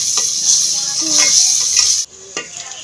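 Onions fry and brown in a pan with a strong, close sizzle and scraping stir for about two seconds, then the sizzle drops away abruptly, leaving a quieter hiss and a single knock.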